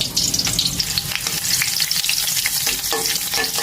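Chopped onion frying in hot oil for a singi fish and potato curry, a loud, steady sizzle with bursts of stirring scrapes throughout, close and with no talk.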